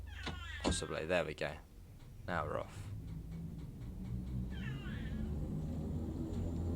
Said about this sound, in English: You can probably hear the cat in the background.